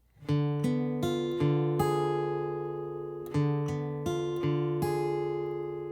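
Repeated strummed acoustic guitar chords, each bright attack ringing out with sustained harmonics, several strums in a steady, unhurried rhythm, close and clear.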